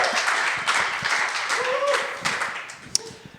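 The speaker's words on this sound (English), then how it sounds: "big round of applause for Graham" Audience clapping for a speaker named Graham as he takes the stage, a fairly dense round of applause that thins out over a few seconds, with a brief voice and a sharp knock near the end.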